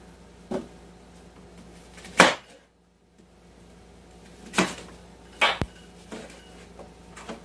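Chunked apple pieces drop into a food processor bowl, giving a few sharp, brief clatters spread apart over a quiet kitchen background.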